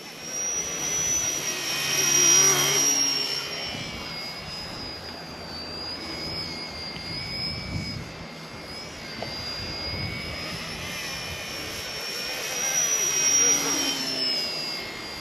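A small RC ERA UH-1 model helicopter flies nearby with a continuous high, whining rotor and motor drone that swells and eases as it manoeuvres.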